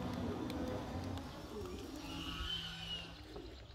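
Pigeons bathing in a garden birdbath, soft cooing and fluttering against low outdoor background noise, with faint distant traffic.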